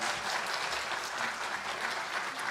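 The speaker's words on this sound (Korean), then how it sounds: "우리 한번 큰 박수 보내주시기 바랍니다" A church congregation at a Sunday service applauds new parents: a continuous, even wash of many hands clapping, soft and distant, with no talk over it.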